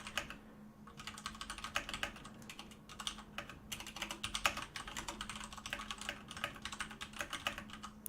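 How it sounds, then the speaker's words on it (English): Rapid, uneven clatter of keys on a computer keyboard as a Dota match caster types a message, close and fairly quiet, continuing steadily with a low hum beneath and no talk. "Sorry, typing a message."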